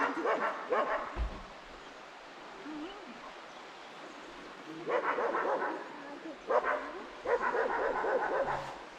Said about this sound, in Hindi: बूढ़ा का दोस्त इधर से भौंक रहा है।